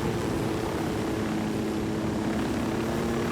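An airplane flies in the video game Ghost Recon Wildlands, a steady propeller engine drone at moderate level that holds constant for a few seconds, with no talk.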